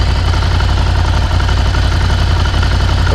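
A Ducati Scrambler motorcycle engine idles steadily up close, a loud, even low rumble with a fast pulsing beat and slight throttle variation throughout.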